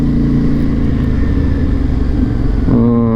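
A motorcycle engine idles loud and close with a steady low throb while the rider hunts for a parking spot, the tone shifting slightly near the end as the revs change.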